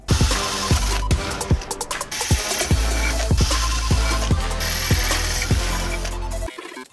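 Drill fitted with a 7 mm bit runs close and loud, whirring steadily with a rapid mechanical ratcheting rhythm throughout before cutting off just before the end.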